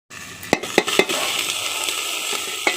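Pabda fish curry with potato and eggplant is stirred in a hot pan, a spoon knocking sharply against the metal a few times at the start and near the end over a loud, continuous sizzle, close up and without talk.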